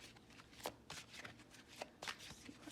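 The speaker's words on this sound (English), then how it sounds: "I'm gonna shuffle them, not on the camera to blow all my leaves away, but this is the Green Witch Oracle." A Green Witch Oracle card deck being shuffled by hand, giving soft, close riffling and slapping bursts in an uneven rhythm at low volume.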